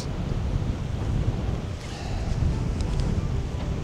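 Steady wind buffeting outdoors by the sea at Lac du Salagou, with a constant broadband rush and surf-like noise throughout, no voices.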